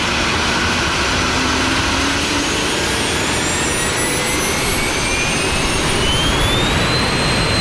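Twin jet engines of a Cessna Citation Mustang 510S spool up for takeoff, a loud steady roar with rising high whine tones climbing in pitch across the run, no talk over it.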